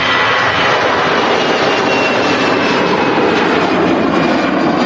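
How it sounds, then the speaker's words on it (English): An easyJet jet airliner rolls out on its flight to Athens from Manchester Airport, a broad, steady roar of jet engines that stays loud and fairly close throughout. "Now EasyJet starting a flight down to Athens"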